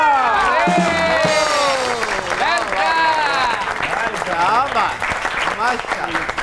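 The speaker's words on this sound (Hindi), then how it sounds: "आपकी बहुत सी तालियों में दी वन एंड ओनली हमारे जाती दोस्त हनी अलबेरा।" Studio audience applause and cheering greet a guest arriving on a comedy talk show, loud and continuous throughout, with a voice speaking over the clapping.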